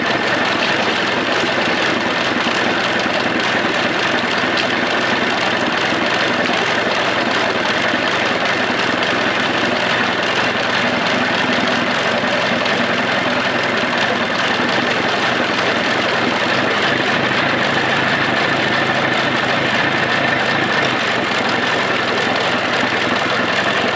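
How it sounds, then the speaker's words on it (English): A Mercury outboard engine runs steadily at idle, a continuous loud close-up drone with no clear gear clunks standing out, heard alone throughout. "I'll shift into forward and reverse for you guys right now"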